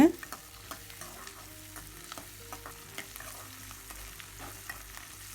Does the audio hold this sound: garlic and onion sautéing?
yes